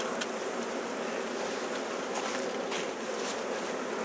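Honey bees swarm around an open hive as a queen is added to a box, making a dense, steady buzz that fills the whole stretch at close range.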